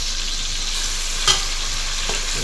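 Onion fries in a pan, a continuous bright sizzle with a soft stirring scrape and a couple of brief clinks from the spoon, close and steady with no talking.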